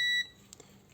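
A multimeter on continuity test gives one short, clear electronic beep while a microwave oven's AC capacitor is being checked. The tone cuts off after a fraction of a second, leaving quiet room noise.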